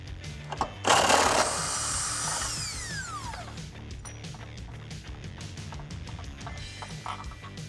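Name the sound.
impact wrench with 18mm socket running out long bolt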